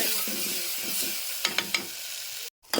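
Green chilli paste, pounded with salt, frying in hot oil in a home kitchen, giving a steady close sizzle with a few brief clatters of stirring and a short break near the end.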